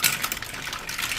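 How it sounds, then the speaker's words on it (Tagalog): Clams clatter and splash into a cooking pot of tomatoes and malunggay in a short, busy rattle of shells. Wet clinks and sloshing continue steadily for about a second, with no talking. "At ilagay ko na yung clams guys."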